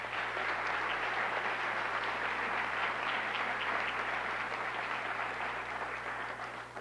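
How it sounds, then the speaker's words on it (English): A steady round of applause fills a school board meeting room as the audience honours the Carmel Clay Schools retirees, a dense, even clapping that carries on throughout before easing slightly at the end. "let's give one more round of applause to all of our Carmel Clay Schools retirees this evening"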